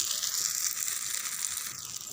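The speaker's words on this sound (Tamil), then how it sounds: "இந்த மாதிரி நல்லா செவந்த வறுக்க திருப்பி போட்டிங்கன்னா தோசை ரொம்ப சூப்பராக இருக்கும்" Dosa sizzling and frying on a hot pan, a steady close hiss of cooking batter with faint crackle, no talking over it.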